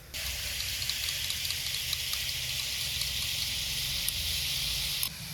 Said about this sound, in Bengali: কাজু বাটা টক দই একসাথে বাটির মধ্যে আছে, নেড়ে চেড়ে গুলিয়ে কড়াইতে দিয়ে দিই